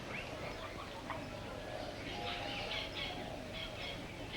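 Pigeons coo softly in a 1951 crime drama scene, a faint, low murmuring of birds under a steady hiss, with occasional brief higher chirps.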